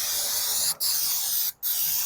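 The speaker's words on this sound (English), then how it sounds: "not liquid, so don't spray it on the wheel, spray it in the wheel" Flammable gas sprays from an aerosol can into a tire wheel in three steady, close hissing bursts split by two brief pauses.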